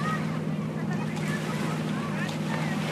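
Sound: sound of ocean surf

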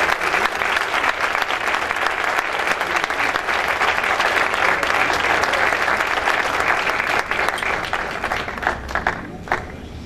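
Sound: audience applause for Ternium de México, first place

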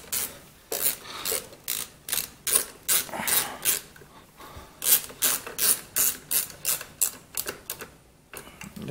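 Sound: socket ratchet turning carburetor bolt on Husqvarna 125b

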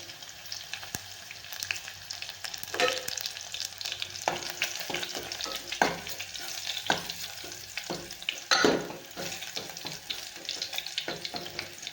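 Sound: frying red garlic in hot oil tempering for palak

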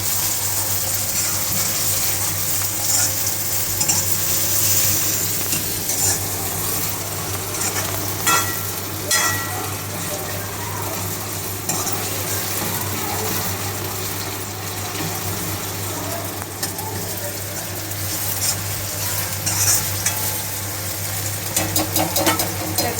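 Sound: tomatoes and onion frying and being stirred in a pan

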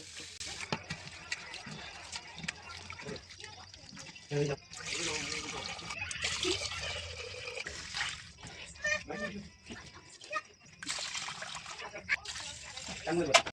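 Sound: washing rice and lentils in water

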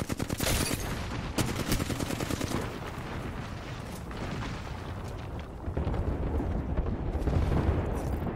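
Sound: airstrike explosions in the video game Apex Legends

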